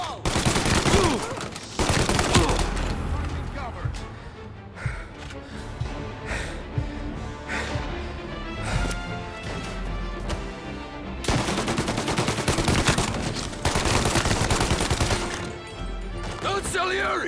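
Sustained gunfire from a firefight in the video game Mafia, dense bursts of shots and rapid volleys that swell, thin out, then surge again, loud and close throughout.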